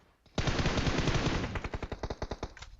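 Gunfire in the video game PUBG Mobile erupts as a loud, sustained automatic burst that breaks into a rapid string of distinct shots toward the end, close and unaccompanied by talk.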